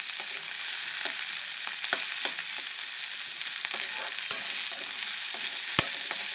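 Momos fry in a pan with a constant soft sizzle, broken by a few faint ticks and one sharper tap near the end, with no voices.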